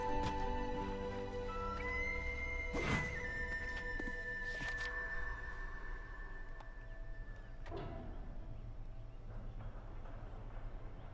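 A horse neighs once with a rising, whinnying call over steady game music in the video game Darksiders 2, followed by a fainter second whinny a few seconds later.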